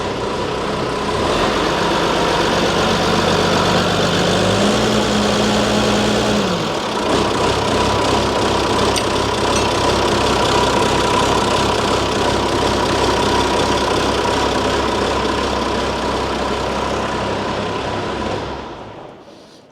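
A Caterpillar diesel engine idles steadily inside a barn, a loud, even low rumble with a faint knocking texture that runs throughout and then cuts off at the end, with no talking.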